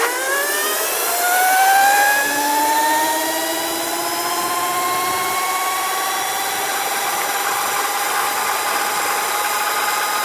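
A custom dual-motor MX650 electric bike on a top speed run, its motor whine rising steadily in pitch as it accelerates, loud and close, with wind and rolling noise underneath.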